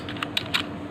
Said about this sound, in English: You type here